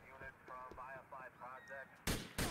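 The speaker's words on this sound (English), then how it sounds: "Oh, you got him. You sniped him." Sniper rifle fire in Grand Theft Auto IV: two loud, sharp shots in quick succession at the end, following a stretch of tonal, voice-like sound.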